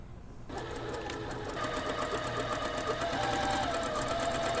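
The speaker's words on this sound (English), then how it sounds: "Now we're going to top stitch along here to make the shoulder elastic casing." A sewing machine starts up after a brief quiet moment and runs continuously, top stitching an elastic casing at the shoulder of a puffy sleeve, its rapid rhythmic needle chatter close and steady.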